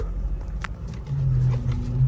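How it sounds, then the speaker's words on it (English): A car's failing power steering pump whines: a steady, low, droning tone rises in and holds under a faint engine rumble, with no talking. "Power steering is definitely going out because it's making that winding sound"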